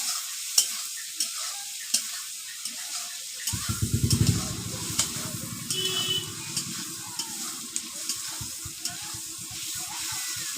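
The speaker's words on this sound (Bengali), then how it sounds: "ভালো করে ভেজে নেবো।" Turmeric-coated food frying in a pan, with a loud burst of sizzling as it goes in and steady spoon stirring and scraping against the pan, then continued frying with occasional knocks.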